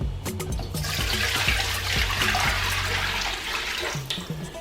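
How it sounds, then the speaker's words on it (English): Broth poured into a huge soup pot set across two stove burners for Sierra Leone pepper soup, a steady, close, gushing splash of liquid that continues for several seconds and tapers off at the end. "we're gonna throw the broth in"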